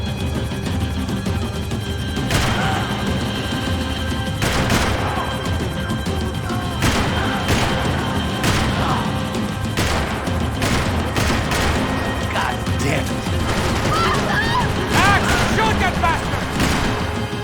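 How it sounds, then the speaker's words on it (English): Heavy gunfire and impacts in the game Max Payne 3, repeated sharp shots and crashing bursts scattered across a loud, continuous action mix, with voices speaking over it at times. "Now, Max, he's gonna shoot."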